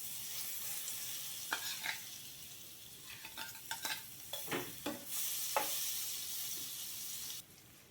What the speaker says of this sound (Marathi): पॅन गरम झाल्यावर त्यात बटर घालूया।